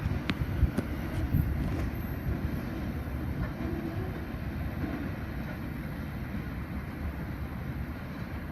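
A diverted train passes at Unanderra, a heavy continuous rumble with faint metallic clicks early on, close and steady, without speech.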